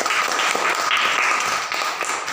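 Classroom applause for a student group after their presentation, a dense steady clatter of many hands clapping at close range, filling the whole moment without speech.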